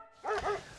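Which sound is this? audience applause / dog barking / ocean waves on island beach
dog barking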